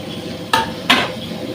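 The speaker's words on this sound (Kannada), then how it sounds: "ಚೆನ್ನಾಗಿ ಮಿಕ್ಸ್ ಮಾಡ್ಕೊಳ್ಳಿ." Two quick scraping clanks of a utensil against a pan while tomatoes are stirred into a coconut green chicken curry, close and distinct over a soft background.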